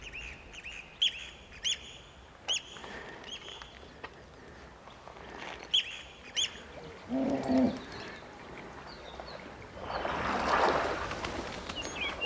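Birds calling in a wildlife park, short scattered chirps and coo-like notes over a quiet outdoor background, with a louder burst of calling near the end and no talk.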